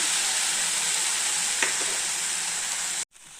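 Thuthi keerai greens sautéing in a pan give a steady, loud broadband sizzle with a couple of soft stirring clicks, cutting off abruptly near the end before a quieter hiss resumes.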